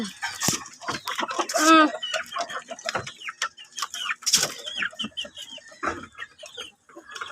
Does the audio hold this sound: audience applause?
no